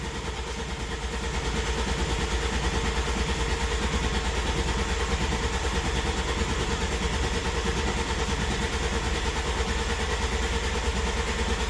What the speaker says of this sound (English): I'm not sure if the oil pump is working, but I think the cranking is working at least.